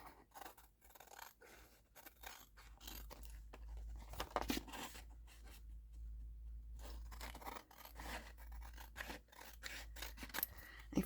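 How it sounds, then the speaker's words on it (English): Scissors cut through paper in a run of quick snips and rasping slices, close and fairly quiet, with short pauses between strokes and no talking. "I'm going to cut that out."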